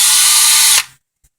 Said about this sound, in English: I'm going to take my drill bit